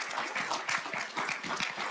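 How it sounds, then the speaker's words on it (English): An audience applauds a tribal chief at a gathering, with steady, fairly faint clapping from many hands throughout. "How about a round of applause for Chief Ben Barnes?"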